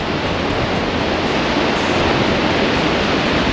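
Lake Michigan waves splash over a pier at St. Joseph, a loud, continuous, dense wash of surging water with no voices.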